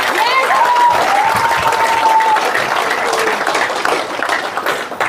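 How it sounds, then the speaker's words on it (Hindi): Large business-seminar crowd claps enthusiastically with both hands raised, a dense, loud, continuous roar of applause lasting the full five seconds, with a few shouts or cheers mixed in near the start. "दोनों हाथ ऊपर करके एक बार दिल खोल के तालियां बजाइए।"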